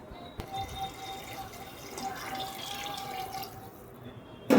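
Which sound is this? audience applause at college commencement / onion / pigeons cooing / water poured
water poured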